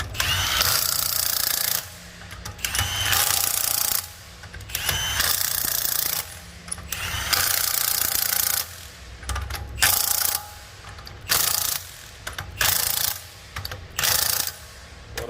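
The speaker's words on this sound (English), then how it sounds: "Tighten your first one and then do a cross pattern to the opposite side" An impact wrench or power tool tightening Tesla wheel lug nuts in a cross pattern: repeated loud buzzing bursts of one to two seconds, separated by short pauses, fairly close.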